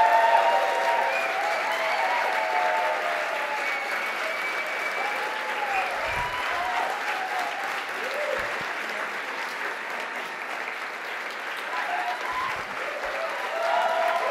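A congress audience at the 37th European Green Party Congress applauds steadily throughout, a dense, sustained wash of clapping with murmurs and faint voices beneath.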